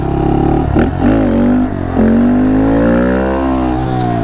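A Honda Monkey motorcycle fitted with Ohlins front forks and knobby tires rides along a road, its small engine loud and close, revving through gear changes with rising and falling pitch before holding a steady drone.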